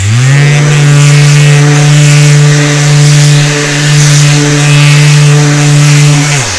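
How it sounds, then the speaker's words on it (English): A Surfprep electric sander runs at a steady high whine while smoothing a wooden bracket foot for a chest, loud and close, holding a constant pitch with slight load variations before spinning down at the end. "I've got a bracket foot that I've made for a chest, and I will actually sand this down for you real quick here."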